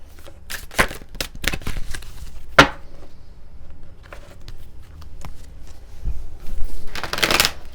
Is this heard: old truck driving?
no